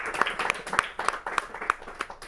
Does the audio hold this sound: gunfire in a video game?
no